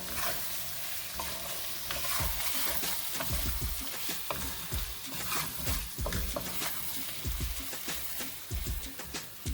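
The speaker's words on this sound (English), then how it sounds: "keep it frying a little bit more" Lobster tail pieces sizzle and fry in a pan while being stirred, a steady crackling hiss with occasional louder scraping and stirring knocks, close and without talk.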